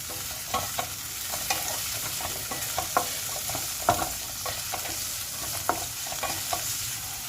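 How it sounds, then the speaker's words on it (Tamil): Onions sautéing with cloves and bay leaf in a pan for a fried chicken gravy, low steady sizzling with repeated spatula scrapes at an uneven rhythm, nearby and with no speech. "அதுக்கப்புறம் நம்ம எடுத்து வச்சுக்க ஆனியனையும் சேர்த்துலாம் நல்லா மிக்ஸ் பண்ணுங்கள்"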